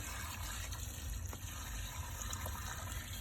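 Cleaning liquid is poured over a Toyota Tundra seat belt above a bucket, giving a soft, continuous trickling and splashing at low level with a few small drips and no talking.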